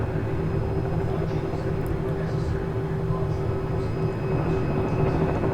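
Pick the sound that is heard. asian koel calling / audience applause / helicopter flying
helicopter flying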